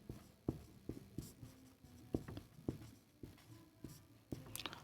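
A pen writing by hand on paper during a maths lesson, with faint scratchy strokes and light taps arriving in irregular bursts, quiet and close.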